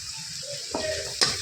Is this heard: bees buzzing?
no